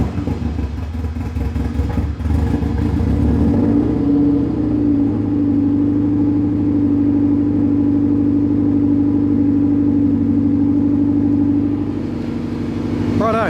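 A 1997 Subaru WRX engine, fuel pump primed, cranks with clattering, catches, and settles into a steady, rumbling idle that holds for several seconds before easing off.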